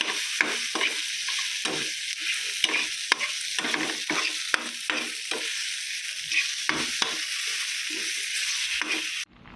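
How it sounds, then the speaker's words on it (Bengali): Poppy seed paste seasoned with ground pepper is stirred in a small pan on a mini stove, giving repeated close scraping strokes over a steady frying hiss, with no one talking. "সব একটু নেড়ে নেবো"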